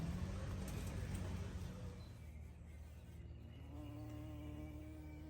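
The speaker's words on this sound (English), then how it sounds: "There's already a bee pollinating my flowers." A bee buzzes around flowers beside a garden bed outdoors, a steady droning hum under low background noise with a faint engine-like rumble, continuous and moderately close throughout.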